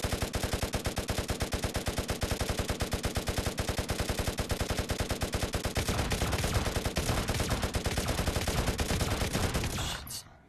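A machine gun fires in a VRChat zombie survival game, a long, steady, rapid burst of shots at even rhythm for about ten seconds, loud and close, cutting off abruptly at the end.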